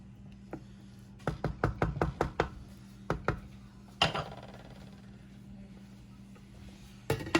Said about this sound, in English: Okay, so now you're gonna stir it.